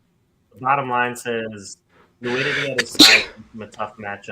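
One sharp sneeze bursts out in the middle of ongoing conversation. It is loud and close, and voices talk before and after it.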